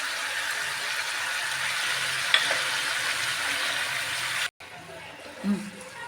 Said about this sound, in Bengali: কাজু পোস্তির বাটাটাও দিয়ে দিলাম দিয়ে মশলাটা একটু কষবো